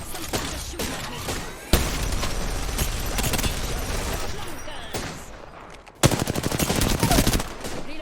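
Rapid, continuous bursts of Rampart's Sheila minigun in Apex Legends, loud and close, with a brief pause before a second hard volley of dense rattling fire.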